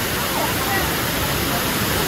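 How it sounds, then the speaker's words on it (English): A steady, dense rush of falling water fills the clip, loud and unbroken like a nearby waterfall. "It's a waterfall."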